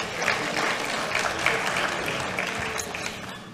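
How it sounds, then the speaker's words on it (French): An audience claps together at an ecology and health forum, and the steady applause stays moderately distant and even throughout, with no talking over it. "Vous pouvez applaudir."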